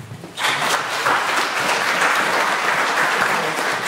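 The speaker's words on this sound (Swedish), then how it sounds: "applåd tycker jag" Audience members at a panel discussion during The Event Dalsland 2013 break into full, even applause that starts abruptly and holds steady throughout.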